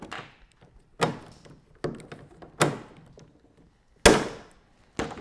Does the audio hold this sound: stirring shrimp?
no